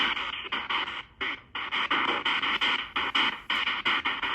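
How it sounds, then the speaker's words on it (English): Radio static from a P-SB7 spirit box sweeping channels, harsh hissing bursts chopped into rapid rhythmic pulses with short gaps between, loud and close. "Static can get really obnoxious"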